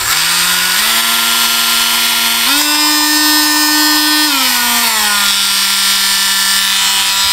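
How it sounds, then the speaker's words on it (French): Cordless Ferm rotary tool of the Dremel type with a small grinding wheel, a loud, close, continuous high whine whose pitch steps up then falls back as the speed changes, with no speech. "Donc ça c'est ce que j'appelle une Dremel, c'est pas la vraie Dremel de la marque Dremel."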